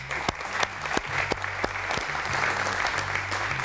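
A studio audience applauds on a Tunisian television variety show, steady dense clapping with a few sharper individual claps standing out, continuous throughout with a low musical tone underneath.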